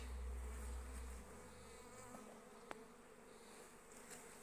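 A steady, low drone of many honeybees buzzing close by at the hive, continuous throughout with a brief sharp click partway through.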